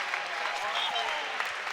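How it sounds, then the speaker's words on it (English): A Chadwick gymnasium crowd applauds after a Wabash men's basketball home win over Ohio Wesleyan, a steady wash of clapping and cheering throughout. "A big hand from this Chadwick crowd as they exit the floor."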